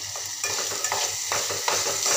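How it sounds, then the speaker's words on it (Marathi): A spicy dal and dhemsa (tinda) vegetable curry being stirred in a pan, a spoon scraping and knocking in uneven strokes over a low constant sizzle, close up and without speech. "सर्व मिक्स करून घेऊ"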